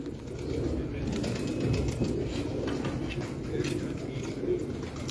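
Breed pigeons coo softly in a loft, low throaty murmurs running continuously with light rustling, fairly close and steady throughout.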